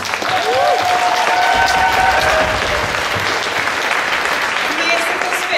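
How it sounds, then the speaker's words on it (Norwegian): A crowd at the Landskappleiken 2019 Norwegian folk dance and Hardanger fiddle competition breaks into loud, sustained applause, with a few whistles and cheers rising briefly above the dense clapping. "Ekstra stor applaus."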